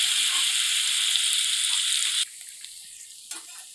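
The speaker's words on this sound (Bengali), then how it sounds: "এবারে ভালো করে আমি ভেজে নেব ছাতুটিকে।" Kurkuri chhatu frying in a pan, a steady bright sizzle that holds loud and even, then drops suddenly to a quieter crackle with a few small pops.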